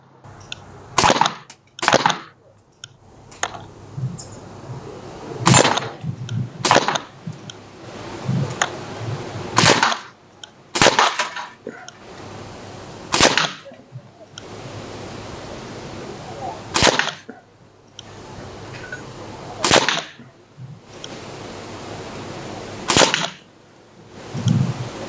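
A Crosman 1077 semi-automatic CO2 air rifle in .177 (4.5 mm) plinking a second magazine, sharp close pops spaced a few seconds apart, with faint handling noise between shots.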